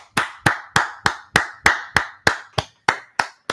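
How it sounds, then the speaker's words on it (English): A single person claps hands twelve times in a slow, even rhythm, each clap sharp, close and loud with a short decay and quiet gaps between, no talking. "Let's do a clap."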